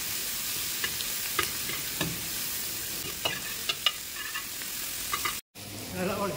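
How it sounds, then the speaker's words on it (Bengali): Vegetables and green chillies sizzle steadily in a pan of hot oil while a utensil stirs them, with scattered scraping clicks over the constant frying hiss before a brief cut to silence near the end. "তাহলে একটু সবজি নাড়তে হবে, কাঁচা লঙ্কাগুলো একটু"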